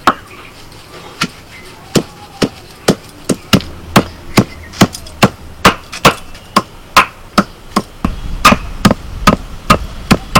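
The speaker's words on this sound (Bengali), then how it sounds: "খুব ভালো করে এই পাতাগুলোকে থেঁতো করে নিতে হবে এইভাবে" Leaves are pounded into a paste for fritters, giving about two dozen sharp, evenly spaced thuds in a steady rhythm, close and loud.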